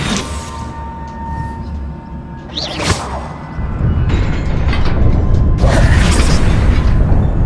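A spell strikes a rune in a video game, followed by a deep mechanism rumbling open, with booming low rumble and bursts that grow louder and sustain toward the end.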